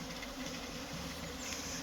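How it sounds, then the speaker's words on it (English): Dense, steady buzzing of a massive honey bee colony crowding the entrance of a big hive after cold wet days, continuous and close with no voices. "It's got a big load of bees in it."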